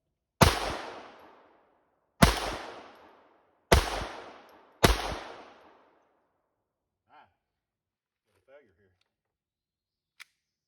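Keltec P17 pistol fired at targets, four loud sharp shots spaced unevenly over about five seconds, each with a decaying echo, followed by a few faint clicks and handling sounds.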